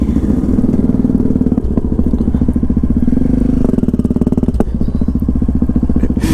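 Yamaha MT-03 motorcycle being ridden, a loud steady engine drone with a rapid pulsing exhaust note close up, plus a few thumps and clatters, no talk.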